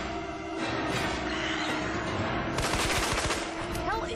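Rapid automatic gunfire from Resident Evil 2 Remake chatters in a fast, continuous burst, loud and dense, over the game's steady background music and effects.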